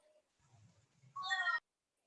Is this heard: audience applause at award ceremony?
no